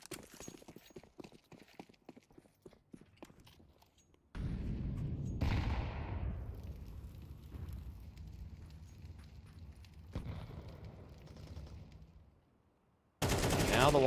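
Gunfire in a competitive shooter match, with a rapid train of sharp shots early on followed by a dense burst of loud gameplay noise and further shots, ending in an abrupt loud blast.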